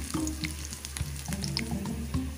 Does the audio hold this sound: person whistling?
no